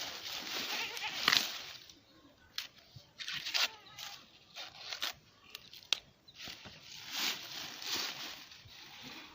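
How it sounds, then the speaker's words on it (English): A goat at an African village maize harvest bleats in repeated bursts, loud and near, interspersed with rustling and scraping handling noises across the stretch. "The goat wants to celebrate with me."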